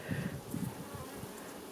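Honeybees buzzing during a beehive inspection as frames and bees are gently moved, a steady, close, low droning hum with fluctuating intensity and no talk.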